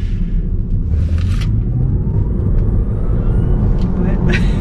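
A Tesla Model 3 electric car accelerates hard, filling the cabin with a loud, continuous low rumble of road and tyre noise while people talk over it.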